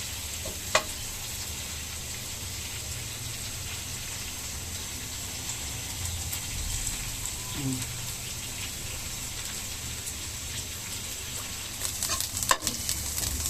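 Bottle gourd peel frying and being stirred in a pan, with a steady low sizzle and occasional scraping stir sounds close by, and brief clinks near the start and end.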